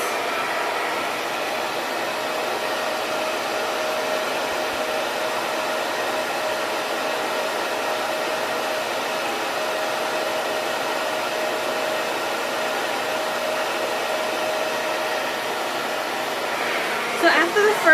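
A hair dryer blows a steady, even hiss close by while drying curly hair at the roots. Near the end there is a brief handling rustle.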